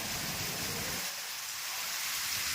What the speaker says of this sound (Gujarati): જોરદાર વરસાદ વાવાઝોડા સાથે